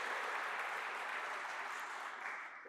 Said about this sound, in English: I think we can all applaud ourselves for the work we did